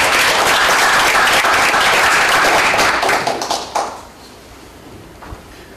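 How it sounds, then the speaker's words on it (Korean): An audience at a university presidents' summit applauds to welcome a speaker, loud and dense clapping that thins out and fades after a few seconds, ending with a few scattered claps. "박수로 환영해 주시기 바랍니다."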